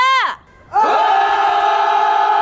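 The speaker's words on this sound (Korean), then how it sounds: "전방을 향해 힘찬 함성 5초간 발사!" Korean army soldiers shout a battle cry toward the front: a short massed yell cuts off, then after a brief pause a second, louder roar of many voices rises and is held steadily.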